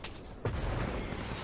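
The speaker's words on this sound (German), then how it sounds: "Der trifft dir mit jedem Schuss, Alter." A burst of rapid gunfire in the video game Hell Let Loose erupts partway through, a dense rattle of shots continuing steadily to the end.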